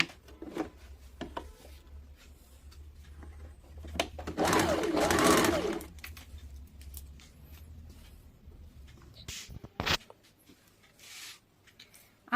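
Sewing machine stitching folded-in fabric strips on a baby frock, a steady mechanical whir running for a couple of seconds amid quieter handling noises.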